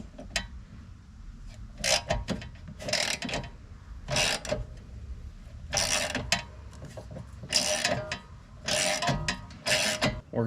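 A ratchet works loose a sway bar link on a third-generation Chevrolet Equinox during a coilover install, giving repeated bursts of clicking strokes separated by short pauses, close and fairly loud.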